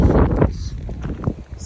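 Strong wind buffets the microphone on a coastal walk at Ringstead, a rough, gusting rumble that nearly fills the brief clip, with faint voice-like murmurs mixed in.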